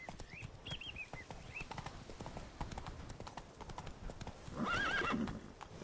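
Hooves clip-clop rhythmically at a brisk trot, with a horse whinnying faintly near the end, all fairly quiet with a hint of a voice.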